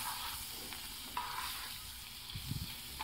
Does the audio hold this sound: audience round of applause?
no